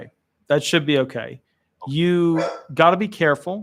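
A dog barks outdoors, a few short barks and whines in the background, mixed in with someone talking close by.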